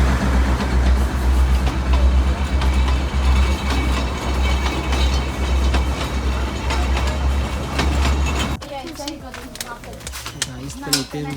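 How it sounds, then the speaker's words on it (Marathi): The Matheran toy train rolls past on its narrow-gauge track, a loud, close rumble with rhythmic clickety-clack that cuts off abruptly near the end, with people talking over it. "हे बघा माथेरानची ट्रेन आलेली आहे."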